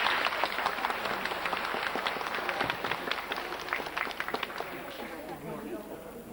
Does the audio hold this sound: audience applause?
yes